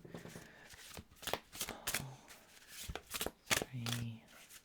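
Tarot cards being shuffled and drawn: a run of quick papery riffles and snaps, with brief soft murmurs of a voice in between, close and moderately loud.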